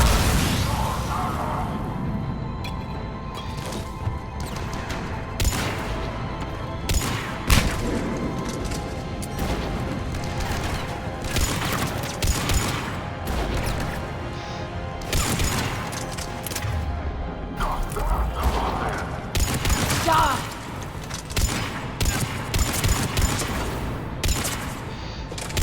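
Assault rifle firing in Mass Effect 3 during the Omega mission, heavy punchy shots in irregular bursts amid a dense game firefight with crashes, booms and whooshes throughout.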